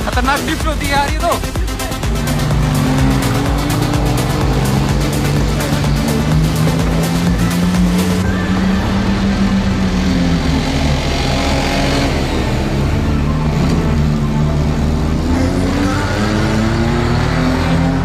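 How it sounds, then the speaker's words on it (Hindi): A homemade 4x4 built by joining two cars, with two engines and two steering wheels, drifts as its engine revs loudly and continuously, pitch rising and falling throughout, with voices talking over it. "खतरनाक ड्रिफ्ट होती है यार ये तो"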